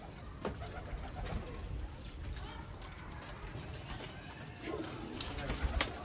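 Chapray pigeons cooing softly in a loft, low murmuring coos running under steady background noise with a few brief sharper sounds toward the end.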